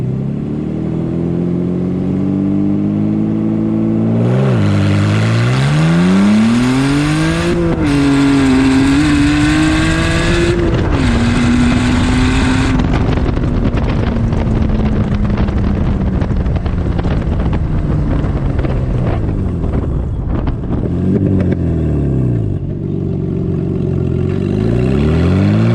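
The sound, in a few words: Z-Kart car engine driving on first drive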